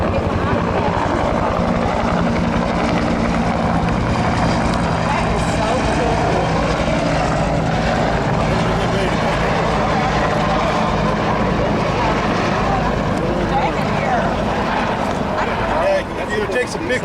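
Helicopters from an assault helicopter company make a flyby. A loud, continuous rotor and engine roar fills the whole stretch while people talk over it.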